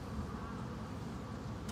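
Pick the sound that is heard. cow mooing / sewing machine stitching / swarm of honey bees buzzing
swarm of honey bees buzzing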